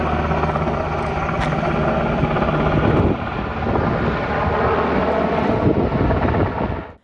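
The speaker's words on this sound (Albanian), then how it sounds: "Në këtë vend kalim kufitar po monitorojnë edhe helikopteret e këforit." KFOR military helicopters fly over the Jarinje border crossing, producing a loud, continuous rotor and engine roar with wind buffeting that holds steady for several seconds before fading out at the end.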